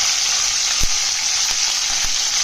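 Curry leaves sputter in hot oil, giving a loud, even hiss broken by a few sharp pops and crackles.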